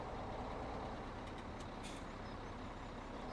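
A truck in Farming Simulator 17 runs with a faint, steady engine drone and broad road hiss that stays constant throughout, with a couple of brief high airy hisses near the middle.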